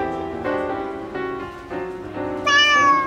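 A cat meows repeatedly in an animated Tamil story about a town mouse and a country mouse, drawn-out tonal cries close and loud, rising at the end, with no talking over them.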